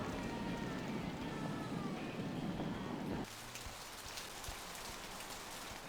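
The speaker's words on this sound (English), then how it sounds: "This rain is the pungent sewage of hell, seeping into the cracks." Steady rain pours in the video game Vampire: The Masquerade – Bloodlines, a continuous hiss of drops hitting surfaces that drops to a softer, thinner patter partway through.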